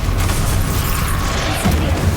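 A Stupefy spell cast in the video game Hogwarts Legacy, heard as a loud, dense burst of booming magical energy that fills the whole moment with a sustained, rumbling blast and no speech.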